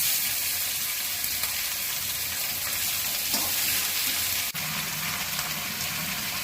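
Vegetables and grated ginger fry in a pan for a Bengali tangra shukto, a steady dense sizzle throughout with a brief soft clatter near the end and no voices.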